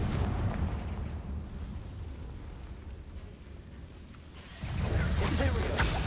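Confringo fire spell explosions in the video game Hogwarts Legacy on PS4: loud booming blasts and rumbling effects fill the scene, quieter in the middle and swelling into a heavy burst near the end, with game audio layered throughout.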